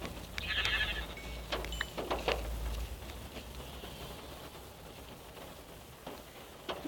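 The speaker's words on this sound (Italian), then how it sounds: "Due pecore, quante pecore ci sono che non so." Sheep bleat several times out in the open, moderately near, amid steady outdoor background noise with no talk.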